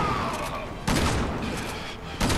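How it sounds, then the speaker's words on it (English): Rapid bursts of gunfire in Resident Evil 6, loud and close, with two sharp volleys breaking through a sustained rumble of game action. "I'm just like shooting him point blank"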